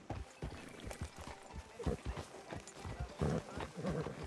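Horse hooves clop in Red Dead Redemption 2 while riding into a southern town, a steady run of soft thuds under game dialogue and ambient noise.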